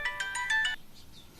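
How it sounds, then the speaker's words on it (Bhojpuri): A phone ringtone from a Bhojpuri film scene plays as a bright, repeating electronic melody of about five quick pulses, then stops, followed by a short loud burst at the end. "सिद्धार्थ साहब के फोन।"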